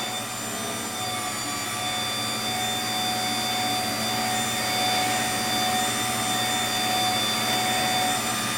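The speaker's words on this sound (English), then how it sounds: "now you have the belt and the drum sander both rotating" Powermatic 2244 drum sander with its conveyor belt and sanding drum both rotating, a steady broadband machine hum and whir with constant loudness and no talking.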